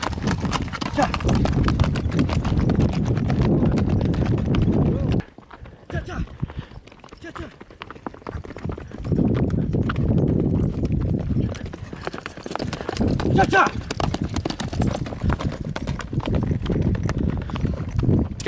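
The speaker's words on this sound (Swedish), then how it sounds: "Vi vet att Mishka är den bästa hästen när det kommer till fart och hastighet." Horse hooves clip-clop steadily at speed in Uzbekistan, near and loud with brief bursts of neighing. The hoofbeats drop away for a few seconds midway, then resume.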